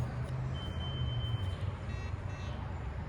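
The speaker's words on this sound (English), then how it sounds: "It just beeped on me." One steady electronic beep from a car wash card reader lasts about a second over the low idling rumble of a BMW 440i Gran Coupe and outdoor background noise.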